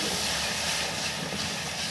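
Spices frying for a spiced cauliflower and potato curry give a steady, dense, close sizzle and hiss that holds throughout without pause, with no talking.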